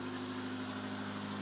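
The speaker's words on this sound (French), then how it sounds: "C'est le bruit d'un moteur de l'irrigation. Le forage." Irrigation borehole pump motor at a desert farm, housed in a building and drawing water from 160 meters deep, giving a steady, even mechanical hum with a constant low drone throughout.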